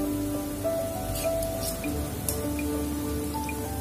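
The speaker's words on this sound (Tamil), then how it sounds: "இப்ப இந்த ஸ்டேஜ்ல நம்ம பிரானை போட போறோம்." Large prawns hit hot oil and a thick masala for prawn thokku, giving a steady, close crackling sizzle with scattered spitting pops.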